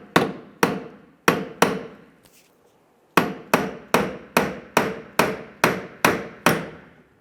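Sharp metal tapping on a stuck liftgate support retaining clip on a 1995-2001 Ford Explorer: four quick strikes, a pause with a faint scrape, then a steady run of about nine evenly spaced, ringing taps, close and loud with no talk.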